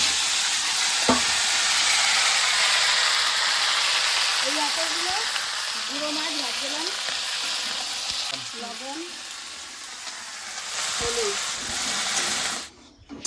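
Cumin seeds frying in hot oil in a home kitchen, a steady loud hiss and crackle throughout, with occasional clinks of a spoon against the pan and someone talking over the sizzle.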